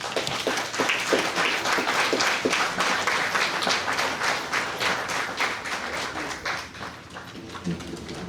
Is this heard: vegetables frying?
no